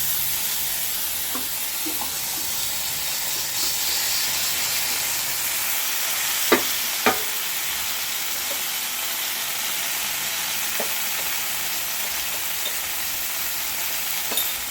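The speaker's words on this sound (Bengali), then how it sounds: "এখন এর মধ্যে একটুখানি টমেটো দিয়ে দিয়ে দেবো" Tomato goes into a hot frying pan for a home meal, giving a steady, loud sizzle and steamy hiss throughout, with a few sharp utensil clicks from stirring near the middle and no talk.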